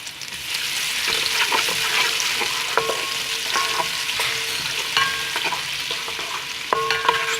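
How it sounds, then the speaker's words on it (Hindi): Onions frying in hot oil in a pot, a steady close sizzle with repeated stirring scrapes and clinks throughout, no voices. "तेल गरम हो जाए उसके बाद हम प्याज डालेंगे।"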